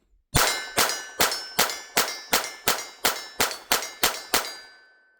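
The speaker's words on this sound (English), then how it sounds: "let's shoot the rest of this mag up" A Sig P322 Comp pistol fires eleven evenly spaced shots in a steady rhythm to empty a magazine, each report sharp and ringing with a short metallic tail, loud and close with no talking.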